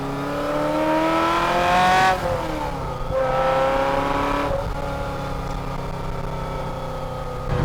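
A Ferrari 348 GTB's V8 revs hard while driving, loud and close, its pitch climbing through gears with brief dips at each shift and settling into a steady cruise.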